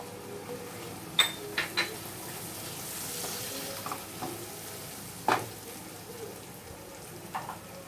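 Chickpeas and cabbage being stir-fried in a pan with tomato: a low frying hiss broken by several sharp clicks and scrapes of a spoon against the pan, spaced irregularly, no talk.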